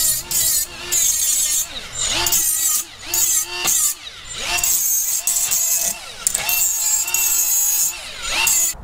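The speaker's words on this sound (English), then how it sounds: "I'm gonna use this Milwaukee M12 die grinder instead, because this will be a little bit better to get in here to smooth out all the edges" Milwaukee M12 die grinder smoothing sharp metal edges on a swing-out rear bumper bike carrier, a loud close high-pitched whine that rises and dips in repeated passes as it bites into the metal.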